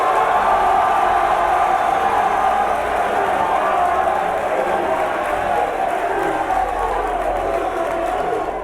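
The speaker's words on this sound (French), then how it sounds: "Je vous demande de les applaudir." A crowd applauds and cheers the team coaches at the 2017 final of a school competition between Lycée Scientifique Yamoussoukro and Lycée International Jean Mermoz. Dense clapping and cheering hold steady and loud for the whole stretch.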